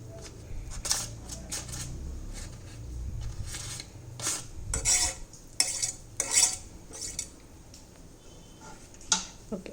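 A spoon scrapes and clinks in a pan as all-purpose flour is stirred into melted butter for white sauce pasta, with steady soft rubbing and a few sharper metallic taps near the end.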